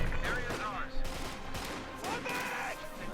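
Machine gun fire from the Company of Heroes 2 strategy game rattles in dense, loud bursts of battle noise throughout, with commentary faintly underneath.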